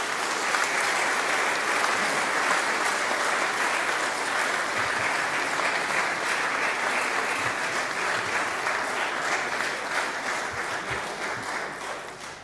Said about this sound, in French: Je crois qu'on peut les applaudir et les féliciter chaleureusement.